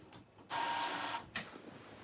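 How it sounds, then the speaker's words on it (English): A printer runs with a steady mechanical whir for under a second, starting and stopping abruptly, followed by a short click, fairly close and alone with no talk. "My printer is printing."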